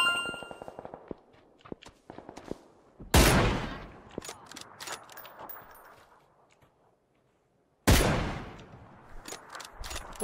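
Rifle shots from an M24 in a PUBG-style battle royale shooter, two sharp loud cracks several seconds apart, with scattered metallic clinks and quieter game sounds between them.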